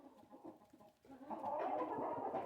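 Several hens cluck at a nesting box in a backyard coop, with low muttering clucks swelling into a louder, busier burst of clucking close by.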